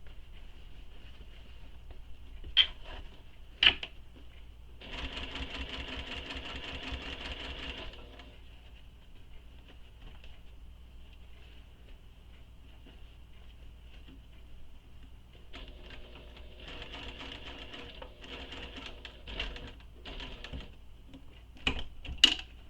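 A sewing machine stitches around the curve of a Wild Rose shoulder bag in two bursts of rapid, steady whirring, separated by quiet handling clicks and fabric shifting, with no talking.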